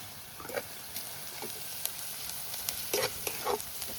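Softened onion with garam masala, turmeric and red chilli powder sautés in a pan, a faint hissing sizzle with a few light scraping stirs of a spoon.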